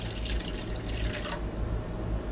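One cup of water is poured in a kitchen while making a marinated garden salad, a brief splashing rush that stops after about a second and a half.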